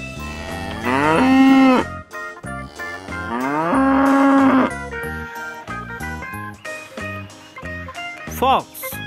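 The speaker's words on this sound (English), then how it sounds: "Farm animal, cow." Two long, loud cow moos rise and fall, followed by shorter animal-like calls and scattered tones.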